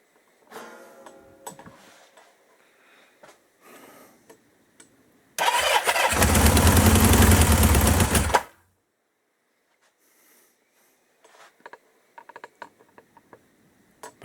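A 1977 Kawasaki KZ650 motorcycle engine cranks and catches, running loud and close for about three seconds before cutting off, with scattered clicks and knocks before and after.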